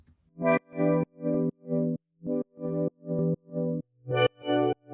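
A pulsing synth chord pumps in a steady EDM sidechained rhythm from an FL Studio mixer preset, ten heavily processed stabs with distortion and chorus, loud and alone with no voices.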